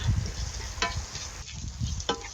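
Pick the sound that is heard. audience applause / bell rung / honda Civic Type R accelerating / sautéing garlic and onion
sautéing garlic and onion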